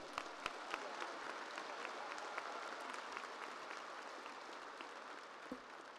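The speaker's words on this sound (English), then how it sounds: "So can we give a round of applause to Mr. Joseph and his staff?" A crowd applauds steadily at a high school graduation ceremony, a dense patter of clapping that holds at an even level for several seconds, heard from a distance.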